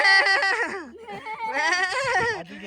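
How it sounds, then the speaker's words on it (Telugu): Goats bleating close by, several loud wavering cries one after another with a short gap between them. "ఇక్కడ పైన మేకలు కూడా ఉన్నాయి."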